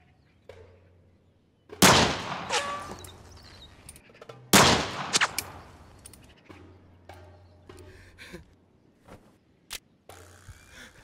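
Gunshots in a film scene, two sharp loud reports a few seconds apart, each followed by ringing echoes and scattered fainter cracks and clatter.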